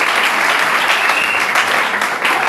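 A church congregation claps in steady, dense applause. The sound is loud and close and continuous, with no voices over it.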